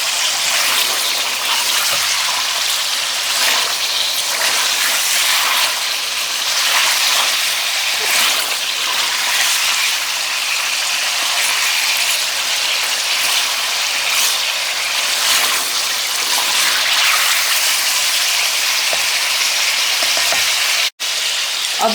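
Salted chicken frying in a karahi pan for chicken Afghani karahi, a loud, continuous hissing sizzle close by with faint stirring, steady throughout apart from one abrupt momentary dropout near the end.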